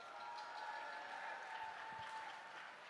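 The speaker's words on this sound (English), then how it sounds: "Give yourselves another round of applause" Faint, distant applause from a commencement crowd at Bowie State University washes along evenly, with a thin steady tone running beneath it.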